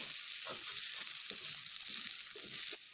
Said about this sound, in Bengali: আলুগুলোকে আমি একটু হালকা হিটে ঢেকে ঢেকে ভেজে নেব